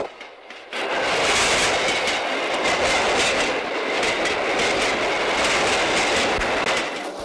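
A speeding passenger train with no driver rushes past in a loud, steady roar of wheels and rails, rising after a quiet opening and sustained with rhythmic clatter to the end.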